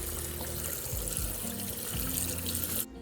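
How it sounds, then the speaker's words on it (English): Cold tap water runs steadily into a kitchen sink over cooked pasta in a colander, a continuous close splashing rush with shifting tone that cuts off abruptly near the end. "Then you just want to rinse your pasta with cold water to cool it down some."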